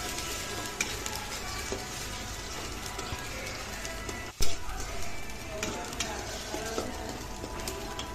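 Ginger-garlic paste fries in a pan with a steady sizzle and a few stirring scrapes, one brief louder clunk partway through, and no talking.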